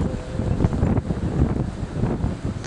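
Wind gusting along a lake shore at a model boat expo, a rough, steady low rumble of wind buffeting the microphone, fairly loud and continuous with no voices.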